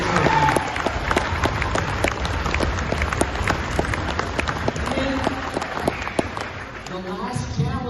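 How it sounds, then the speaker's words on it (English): Audience applause fills a school championship assembly honoring a seventh-grade volleyball team, dense steady clapping from a large crowd with scattered sharp claps standing out, loud and sustained before easing slightly near the end. "Let's give them one big round of applause for that."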